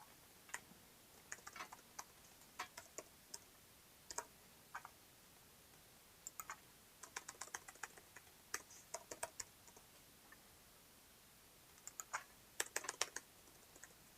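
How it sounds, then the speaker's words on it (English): Typing on a computer keyboard, quiet close clicks in irregular bursts and short runs of keystrokes with gaps, over faint background hiss. "So I can easily type it out over here."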